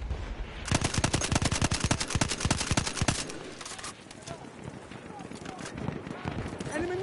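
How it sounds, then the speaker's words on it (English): Rapid machine gun fire from an enemy position in Battlefield 1, long bursts of sharp close shots for about three seconds, then scattered distant gunfire and battlefield noise with voices talking over it. "Enemy machine gun. Machine gun, hostile."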